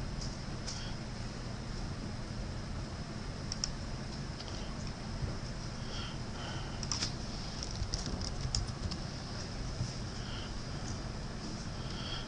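Typing on a computer keyboard, a steady patter of key clicks at moderate distance, running continuously with small irregular bursts over a low constant background hum.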